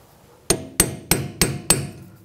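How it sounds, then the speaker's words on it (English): A hammer striking a chisel to bend back the thin metal lock tab on an inner tie rod of a 2004-10 Toyota Sienna gives five sharp, evenly spaced metallic blows, close and alone. "use some type of a chisel and a hammer, and just try to hammer that back a little bit"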